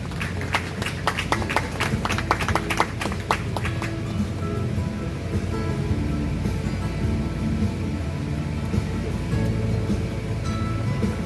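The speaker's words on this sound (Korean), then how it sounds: "윤호덕 국회의원님을 따뜻한 박수로 맞이해 주시기 바랍니다." An audience at a South Korean National Assembly memorial ceremony applauds to welcome a lawmaker: sustained, dense clapping, sharp and crisp at first, then settling into an even, steady wash.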